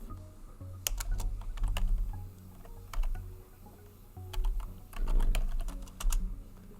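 Keys clatter on a computer keyboard as a command is typed during a NEXTSTEP installation in the Previous emulator, with irregular clusters of close, crisp taps and brief pauses.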